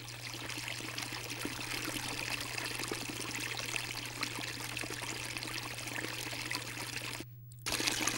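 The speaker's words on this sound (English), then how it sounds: "By deploying the vortex within a transparent cylinder, one can experience that much more fully the movement and drama within." Water swirls in a vortex inside a transparent cylinder, fed by two competing inflow currents, giving a steady rushing, trickling flow with an even, continuous wash and a short drop-out near the end.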